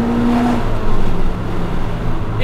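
JDM Honda Civic Type R FD2 engine runs with a loud, steady droning tone that swells slightly midway, heard close with no voices over it.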